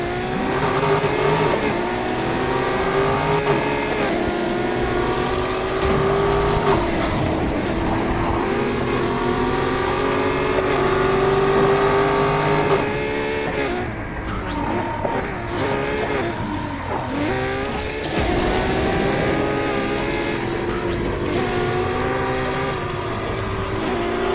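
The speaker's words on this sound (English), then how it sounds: "not many people can say that they've gone over 230 miles an hour in a Challenger" A loud Challenger engine in Need for Speed Heat roars steadily at over 230 mph for the whole stretch, its pitch rising and shifting with gear changes and a synthetic, game-like tone.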